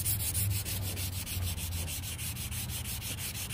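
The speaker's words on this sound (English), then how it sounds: "Now I'm going to take a piece of 220 grit sandpaper and we're just going to lightly give it some sand real quick." A wooden farmhouse candle holder is hand-sanded with 220 grit sandpaper held in the hand, no block. The close, rhythmic back-and-forth rasp of paper on wood repeats steadily, with no talking.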